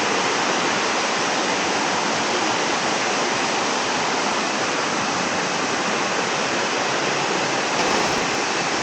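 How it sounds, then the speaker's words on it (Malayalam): Pattathippara waterfall in the forest roars in a loud, dense, unbroken rush of falling water, steady from start to finish with nothing else heard. "അപ്പോൾ ഇതാണ് വെള്ളച്ചാട്ടത്തിൻ്റെ ഫൈനൽ"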